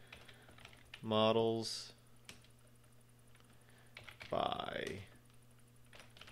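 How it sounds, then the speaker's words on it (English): Typing on a computer keyboard while working in Blender on Linux: sparse, light, close key clicks scattered between two short stretches of someone speaking. "I'm going to hit tab and I'm going to type"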